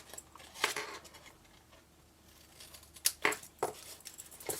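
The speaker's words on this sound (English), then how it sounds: "I'm going to cut it off." Scissors cutting card stock while making a tiny craft box, a few quiet snips spread out with pauses between them, close up in a hushed room.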